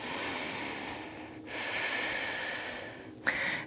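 Steady, airy breathing held through a yoga pose, with a long drawn inhale and a slow exhale, close and fairly loud, and a short sharp snort near the end.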